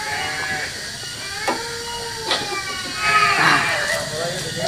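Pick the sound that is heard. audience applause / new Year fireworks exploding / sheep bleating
sheep bleating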